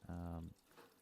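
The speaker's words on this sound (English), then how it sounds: "we're gonna put it back in place, add some water" Water is poured into the tank of a Breville Barista Express BES870XL espresso machine, making a short, close splashing burst of about half a second that fades into quiet room sound.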